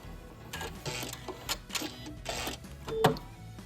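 A home sewing machine running a back stitch right at the fabric edge, producing short quiet bursts of rapid mechanical needle chatter with small clicks between them.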